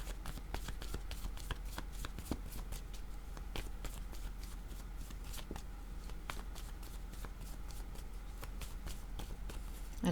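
Tarot cards being shuffled and drawn, with steady soft riffling and repeated crisp flicks and snaps of card stock up close, no talking.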